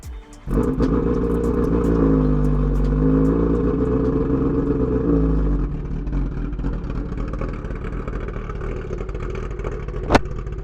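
A loud Brutale 1000RR motorcycle with a full titanium Arrow exhaust revs up and holds a deep, rumbling roar, then settles into a rough, lumpy idle with a sharp pop.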